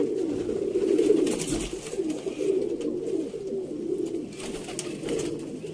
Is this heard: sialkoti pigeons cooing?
yes